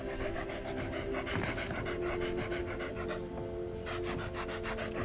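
A dog pants steadily and rapidly in Splinter Cell: Blacklist, a close, continuous rhythmic huffing over game background sound, with no talking.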